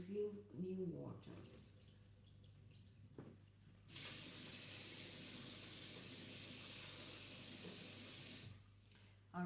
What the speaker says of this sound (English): you can always remove the water and refill new water